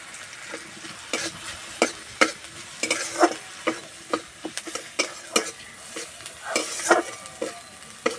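Green chili and cumin fry in hot oil in a pan with a constant loud sizzle, broken by repeated sharp scrapes and clinks of a spatula stirring against the metal.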